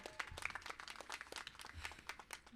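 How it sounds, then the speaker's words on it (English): An audience applauds graduates at a high school graduation ceremony, a dense run of hand claps from many people, fairly distant and steady throughout the stretch. "Can we get another round of applause for them?"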